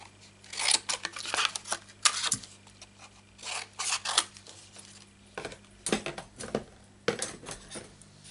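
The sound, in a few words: scissors cutting paper vase punches into strips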